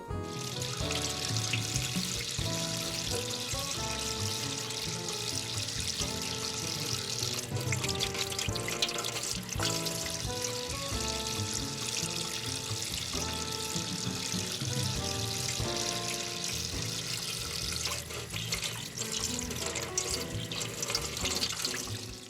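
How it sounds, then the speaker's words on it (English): Tap water runs steadily from a faucet into a sink while hands are scrubbed with soap, a continuous close splashing that holds at even loudness throughout with no talking. "We must take the time to use soap and water and scrub those hands."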